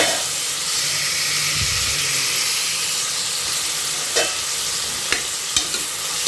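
Onions sautéing in a pan as the base for a shrimp pasta biryani, a steady close sizzle and hiss with a few sharp scrapes and clinks of stirring toward the end, no talking.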